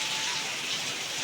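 Steady rain falls without a break, a dense, even hiss that stays at a moderate level with no talking.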